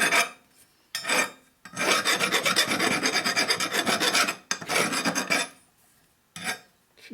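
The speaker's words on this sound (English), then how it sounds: "I'm using a real coarse file here" A coarse file rasps across a metal part on a 1957 Harley panhead head, in several bursts of rapid back-and-forth strokes separated by short pauses, close and loud with no talk.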